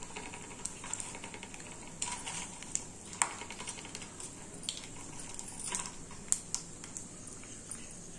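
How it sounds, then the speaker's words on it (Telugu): Shelled peanuts frying in hot oil for homemade tamarind rice, giving scattered crackles and sharp pops over a low steady hiss, fairly close and quiet, with no talking. "పల్లీలు కొంచెం వేగాలి నూనెలో"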